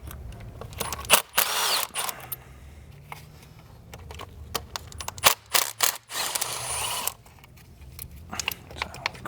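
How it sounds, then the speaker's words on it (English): A power driver whirs in short bursts with clicks and metallic clatter as two T30 Torx bolts come off a coolant line on a Mk7 Volkswagen GTI turbo. "I am just going to take off the T30, or the two T30s for this coolant line"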